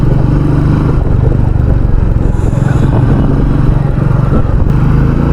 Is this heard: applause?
no